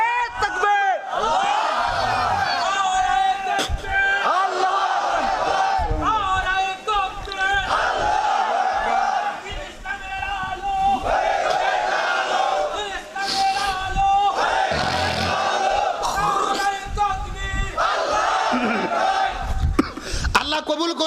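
A large crowd roars a loud, sustained takbir response in answer to a religious preacher's call at a gathering, swelling voices overlapping continuously for about twenty seconds.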